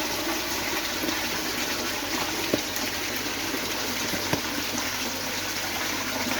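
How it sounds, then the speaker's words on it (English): Water pours steadily from the outlet of an indoor IBC tank back into a koi pond, a constant rushing gush with no pauses and a couple of small splashes. "we obviously flow out the outlet there and come back and return to the pond"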